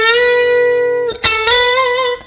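Electric guitar, played alone and close, holding a sustained note with a brief pick attack midway, then a whole-step bend that rises and holds before fading.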